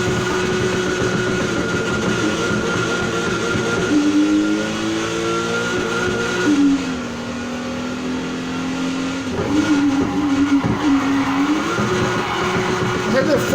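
A 1976 Volkswagen Golf GTI drifts in the racing game Need for Speed Heat, its engine holding a steady drone that swings up and down in pitch as the revs surge and drop through the slide, loud and continuous throughout.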